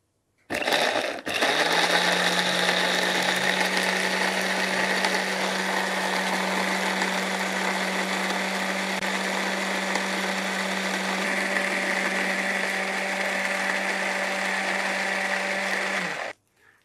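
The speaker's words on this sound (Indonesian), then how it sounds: "Tapi supaya lebih memudahkan, kita blender aja." An electric kitchen blender grinds spices with a little water for an Indonesian home-cooked dish, its motor whirring in a loud, steady, unbroken drone for about fifteen seconds before switching off.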